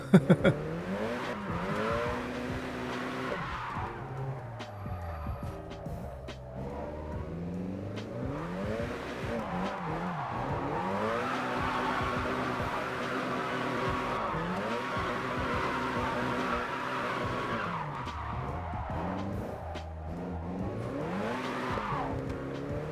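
Car drifting in the JDM Drift Master video game, with engine revving up and down and long tire squeals through repeated slides, loud and continuous throughout, no talking.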